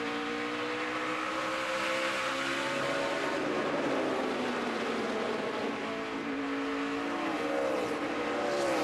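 NASCAR Nationwide Series race cars roar around Bristol in a 2013 race, a dense continuous engine drone with shifting whines as the pack circles the track.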